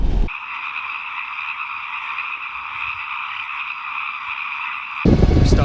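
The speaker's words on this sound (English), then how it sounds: "over here the creek forms a lake and you can hear the frogs certain times of the year" Frogs croak in a dense, continuous chorus at a creek-fed lake, steady and fairly loud from start to finish, cut off near the end by a louder burst of noise.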